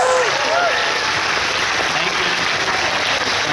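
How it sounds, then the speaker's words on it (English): Audience applause at a live gaming-convention Family Feud show, a dense, loud wash of clapping and crowd noise filling the whole stretch, with cheering voices and some talk woven through it. "give a round of applause for Jimmy, everybody"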